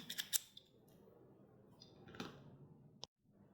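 Scissors snip the yarn of a knitted lipstick keychain cover, a few sharp close clicks at the start and another cut later, against a quiet room.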